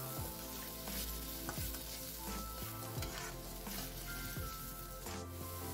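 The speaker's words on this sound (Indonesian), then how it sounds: "ini kita tumis sampai ayamnya ini menciut" Chicken stir-fries with spice paste in a wok, giving a loud continuous sizzle with repeated scraping strokes of the spatula, close by and without talk.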